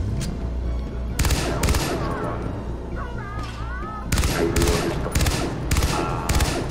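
Bursts of automatic gunfire from the player's weapon in Far Cry Blood Dragon, two loud rapid volleys separated by a lull, over a steady game background.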